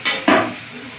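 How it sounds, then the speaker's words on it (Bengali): Paneer pieces dropped into overheated oil for palak paneer make a short, loud burst of sizzling that starts abruptly, then settles into a softer crackle, with no voices. "এবার পনিরগুলো আমি অল্প অল্প ভেজে নেব।"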